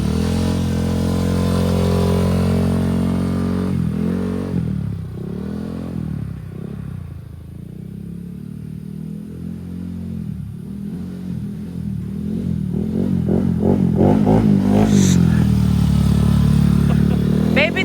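A motorcycle engine hums steadily, then rises and falls as the rider revs and shifts, with clattering and scraping and several people talking over it.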